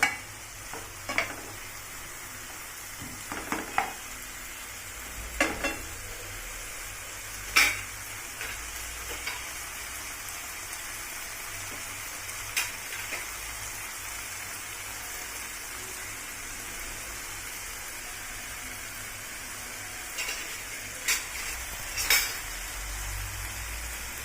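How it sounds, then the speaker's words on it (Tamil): Boiled vegetable noodles being stirred into vegetables in a pan, with a soft continuous sizzle and occasional scrapes and clinks of a utensil against the pan. "வேக வச்சு வச்சுருக்க நூடுல்ஸை நல்லா சேர்த்துக்கிறேன்."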